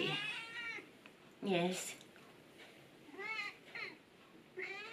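A pet cat meows several times indoors, each meow drawn out with clear pitch bends, close and fairly loud, with a voice briefly speaking between the meows.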